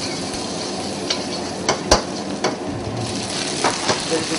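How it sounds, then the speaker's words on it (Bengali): Garlic hitting a hot pan for a pak choi stir-fry in a restaurant kitchen, a steady broad sizzle with a few sharp utensil clicks and scrapes, close by, no voices. "একটু গার্লিক দিচ্ছি"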